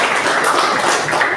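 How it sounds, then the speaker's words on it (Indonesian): A high school class gives a round of applause in the classroom. Many hands clap at once in a dense, loud, continuous patter that lasts about a second and a half. "kasih tepuk tangan dulu"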